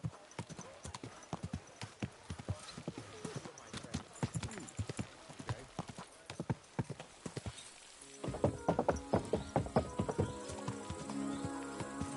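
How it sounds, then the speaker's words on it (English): Steady clip-clop of horse hooves trotting close by in a video game, rhythmic and continuous, with music joining in partway through. "Don't you know how to keep your horse under control?"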